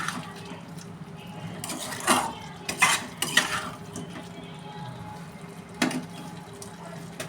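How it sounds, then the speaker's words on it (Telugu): Chicken pieces are stirred in a pan with a metal utensil as they fry in spicy masala, giving a steady soft sizzle under several sharp scraping clanks against the pan. "ఇది ఇంకొంచెం కారం ముక్కలకి పట్టే వరకు ఫ్రై చేసుకుందాం."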